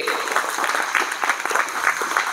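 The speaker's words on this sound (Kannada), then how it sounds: "ಆಕೆಗೊಂದು ಜೋರಾದ ಚಪ್ಪಾಳೆ ಬರಲಿ." Audience applause at a neighbourhood Ganesh festival gathering in Bengaluru's R.T. Nagar, honouring Ahilyabai Holkar: steady, dense clapping from a crowd, sustained at even loudness throughout.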